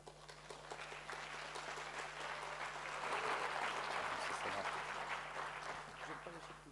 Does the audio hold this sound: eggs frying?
no